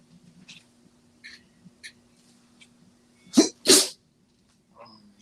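A single loud, close sneeze bursts out after a few faint clicks and rustles, followed by quiet, during boxing fight commentary.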